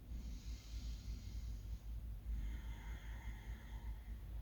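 Slow, deep breathing in a hatha yoga class, a long airy inhale and exhale close to the microphone over a steady low hum, with no talking.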